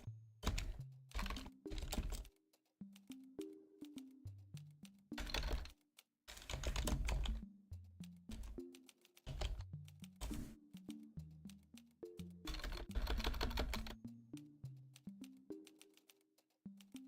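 Someone types on a computer keyboard in quick bursts of clattering keystrokes, separated by short pauses, close and dry with no voices.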